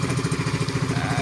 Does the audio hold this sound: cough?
no